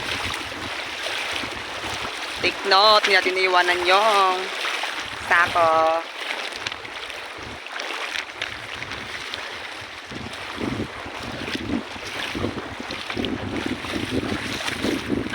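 Strong waves and a fast current of river water rush and churn continuously, mixed with gusting wind noise, while people talk over it for much of the time.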